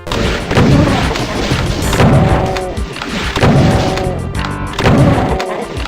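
Weapon fire from the video game Doom, including the Super Shotgun: repeated heavy booming blasts about once a second, loud and punchy, with no speech.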